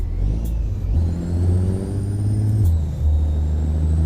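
A Peterbilt 352 truck in American Truck Simulator with a steady low diesel engine drone; the engine note shifts and dips as the brakes engage, with a faint high whine overhead and no talking.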